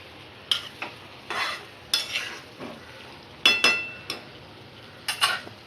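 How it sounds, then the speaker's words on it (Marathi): A spoon stirs boiled ingredient into raw mango pickle in a pan, with short, repeated scraping strokes and a soft sizzle, close and clear with no talking. "मी ह्याच्यामध्ये तो बल्ब आपण जो उकडवून घेतला होता तो घालत आहे। तो मी चांगला ढवळून घेत आहे।"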